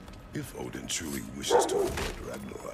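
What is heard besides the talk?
dog barking in the room during a God of War Ragnarok game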